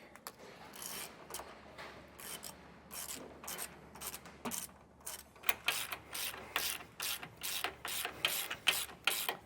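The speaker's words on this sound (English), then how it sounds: "Now using a 3/4 inch socket and wrench, we are going to snug these down real quick." A ratcheting wrench with a 3/4 inch socket tightens bolts while a Roadmaster rear anti-sway bar is set up on a 2022 Ford F-53, giving quick, close clicking bursts in an uneven rhythm with no talk.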